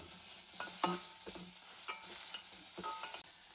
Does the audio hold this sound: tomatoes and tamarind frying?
yes